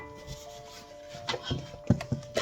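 A spoon stirs homemade banana pudding mixture in a pot, making soft scraping rubs that grow into a few sharper knocks against the pot toward the end.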